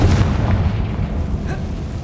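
A Confringo spell explodes in Hogwarts Legacy with a deep, booming blast whose low rumble rolls on, and a sharp crack or burst stands out briefly partway through, with no voices over it.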